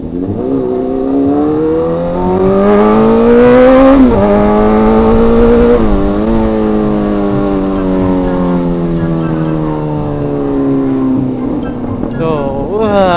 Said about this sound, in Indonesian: Gila ini motor bener-bener idaman ya. Pantes banyak banget yang suka CBR 600 kawan-kawan. Suaranya krinyis-krinyis.